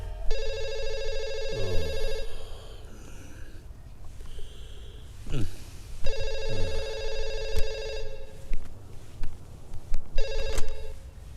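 An electronic telephone rings in repeated bursts with pauses between, loud and close, with some breathing and handling noise in the gaps.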